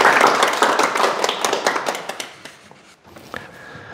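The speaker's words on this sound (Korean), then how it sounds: "큰 박수 부탁드립니다" Audience clapping at a Sunday lecture, a burst of hand claps that starts strong and tapers off over a few seconds, with isolated claps trailing at the end.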